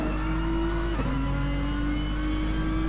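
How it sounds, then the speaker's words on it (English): A Nissan touring car in an online racing game at the Nurburgring holds a steady, loud engine drone, revving with a brief dip and shift around the one-second mark before settling back into a sustained high note. "Again, that Nissan sounds fantastic."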